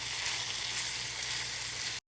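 Beef and seasonings fry in a pan with tomato paste, giving a steady, close hiss of sizzling that runs unbroken for two seconds and then cuts off abruptly.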